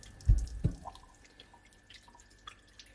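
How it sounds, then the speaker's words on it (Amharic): Water is poured onto a thin cloth laid under a kitchen cutting board before preparing fish: two soft splashing thumps up close, then faint trickles and drips. "ስስ ጨርቅ ከስር በማስቀመጥ ውሃ ማፍሰስ"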